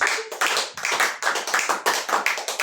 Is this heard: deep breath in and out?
no